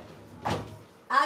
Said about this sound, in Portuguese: Estou fechando a porta.